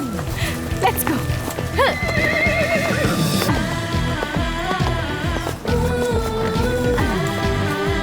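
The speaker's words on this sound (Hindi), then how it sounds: "अफसून साहिबा का घोड़ा तैयार कर दिया था मैंने" A horse saddled and readied for riding neighs repeatedly in loud, close whinnies while hooves clip-clop over the ground, with a faint voice briefly in the background.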